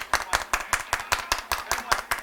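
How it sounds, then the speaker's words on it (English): A few people clap their hands together in a steady, even rhythm, about eleven sharp claps in just over two seconds, close and fairly loud, with no talking over them. "Everybody clap your hands."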